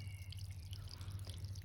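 Water drips and trickles quietly through cracks between concrete slabs, a faint steady wet patter over a low hum.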